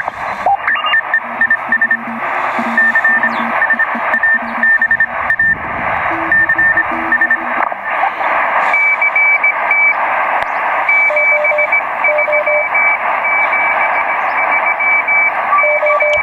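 Morse code comes through a Tecsun PL660 shortwave radio tuned to the 40-metre band, with several keyed tones beeping in short and long pulses over constant radio hiss.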